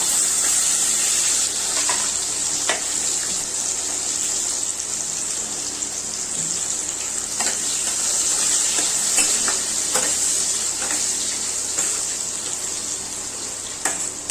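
Cashews and raisins fry in oil in a pan for a festive pulao, a steady bright sizzle with faint stirring scrapes throughout, and no talking.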